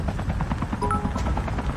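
Helicopter flying in the mobile battle royale game Call of Duty Mobile, a steady rotor drone with scattered game effects throughout, no talk.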